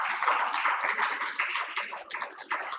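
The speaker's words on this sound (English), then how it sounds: "Please join me in welcoming them with a huge round of applause." Audience applause welcomes speakers onto the stage at a financial inclusion and growth session in India, a steady dense patter of clapping that holds fairly even for about three seconds with no talk.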